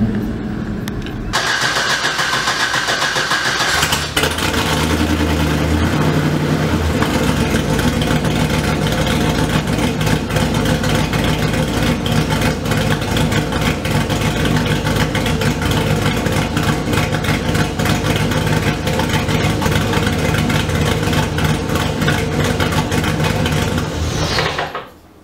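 Chevrolet S10 truck engine cranking and catching on its first start-up, then settling into a steady, loud, rough idle that runs on close by until it cuts off at the end.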